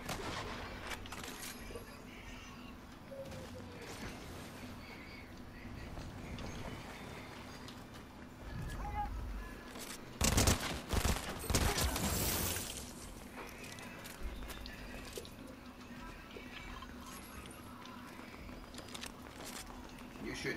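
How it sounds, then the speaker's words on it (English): Gunfire breaks out in a Fortnite match, a short dense burst of shots in the middle of the clip over steady game noise and scattered footsteps, with quieter background sounds before and after. "They're shooting me, so I'm shooting back."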